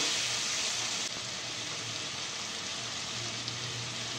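Shrimp with chilli powder, cumin powder, salt and turmeric frying in a pan, giving a steady, close, even sizzle that runs unbroken from start to end with no talk.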